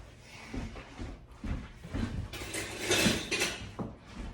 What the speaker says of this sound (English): Let me get a whisk.